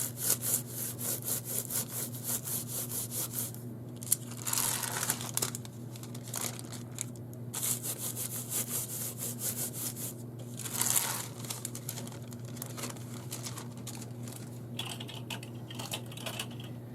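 Wipe-up paper is rubbed steadily over an inked printing plate during mono printing, making a continuous scratchy, papery scrubbing with small surges, close up and over a constant low hum.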